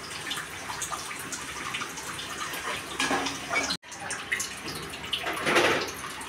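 Water splashes and runs over raw fish pieces being washed by hand for a Telugu fish curry, a steady close rinsing sound with a brief break partway through, no talking.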